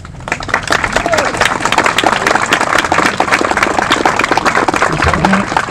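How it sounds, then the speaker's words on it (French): Audience applause at the outdoor inauguration of a Saint Colomban cross at a cove, dense steady clapping from a crowd that holds at full strength for the whole stretch. "je vous demande de les applaudir"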